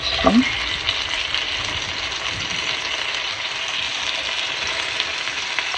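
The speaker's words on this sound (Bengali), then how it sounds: "এটা একটু ভালো করে আমি ভেজে নিব" Chopped onions and whole cumin seeds sizzle steadily in hot oil in a home kitchen, with one soft clink near the start and then a continuous, fairly loud frying hiss that holds even to the end.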